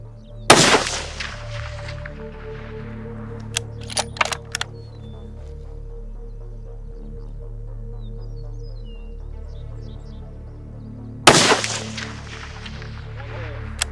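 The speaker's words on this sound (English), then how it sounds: "Okay, rifle's up. Spotter's up. 10 rounds." A Ruger 6.5 Creedmoor rifle fires on a long-range shooting range: one loud, sharp shot near the start and another about eleven seconds later, each ringing out, with a few faint clicks and a low steady hum between.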